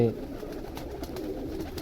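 Pigeons kept by a Punjabi fancier, cooing in low murmurs throughout, mixed with soft background noise and a faint hum.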